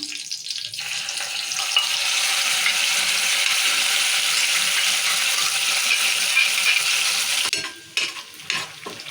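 Tomato and onion masala paste for an egg curry fries in hot oil with a loud, steady, close hiss that runs unbroken for several seconds, then breaks into stirring clatter near the end.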